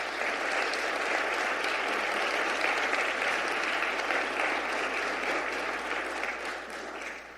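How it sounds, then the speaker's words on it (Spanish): A church congregation applauds during a Sunday service, a full, sustained wash of clapping from many people that holds steady and then begins to fade near the end. "Denle un aplauso al Señor."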